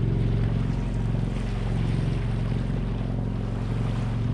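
Steady, loud drone of a 25-foot small sailboat's motor running on the open sea near Double Island Point, with wind buffeting the microphone and faint water wash throughout, no voices.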